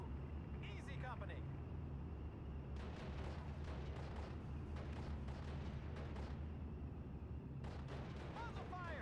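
Gunfire rattles across a Steel Division video game battlefield in two dense bursts of crackling shots, one midway and one near the end, over a low constant rumble with voices heard nearby.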